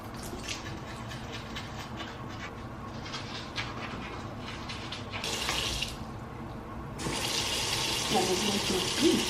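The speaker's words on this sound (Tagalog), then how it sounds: "Lalagyan ng tubig." Water runs from a tap into a container in a hotel room, a steady hissing stream that grows louder and fuller toward the end, with no talking.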